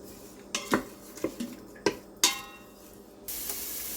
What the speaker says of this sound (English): I'm putting in the oil, and I'm putting in the onions, and we are just going to saute these for about 5 minutes